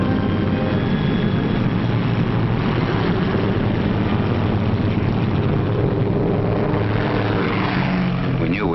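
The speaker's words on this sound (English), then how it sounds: "Then we heard the roar of engines as the Pathfinder ships began hopping off." Engines of World War II Pathfinder transport planes roar steadily at takeoff, a dense loud drone with no letup, heard on an old film soundtrack.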